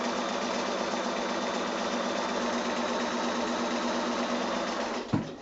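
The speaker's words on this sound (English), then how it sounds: "I'm going to go now and I'm going to sew both of those lines" A sewing machine runs steadily as it stitches lines across a quilt block, a fast even mechanical whir close to the microphone that stops near the end with a short clunk.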